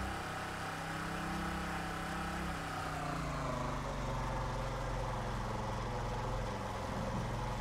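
Ship engine in the game Stormworks running steadily, a continuous low droning hum with a slight shift in pitch midway, sustained and even with no talk.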